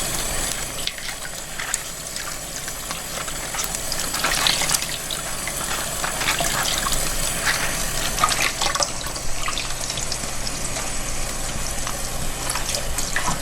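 Water running steadily from a tap, splashing and gushing continuously with small clatters as something is rinsed beneath it.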